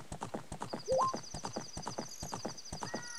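Epona, a horse in the video game The Legend of Zelda: Ocarina of Time, gallops with a steady, rapid clip-clop of hooves, a brief whinny early on and game chimes ringing over the hoofbeats, with no talking.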